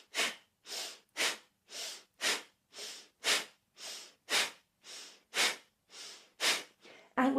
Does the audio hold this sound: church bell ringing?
no